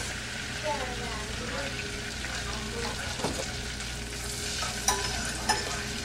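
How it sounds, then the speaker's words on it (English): Chopped onions cooking in melted butter in a pot for potato soup, giving a steady close sizzle with occasional stirring clicks. "Now that the butter is melted, you can add your and turn down the heat a little, and add your half cup of chopped onions."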